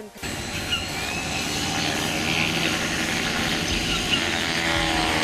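A cheap foam radio-controlled model Focke-Wulf 190 warbird flies past, its small electric motor and propeller giving a steady, continuous buzzing drone over outdoor wind noise.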